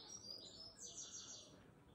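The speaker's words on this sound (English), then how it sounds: "little birdies tweeting." Small birds chirp and tweet in the early morning, with wood pigeons about, heard as scattered faint calls over a soft steady outdoor background.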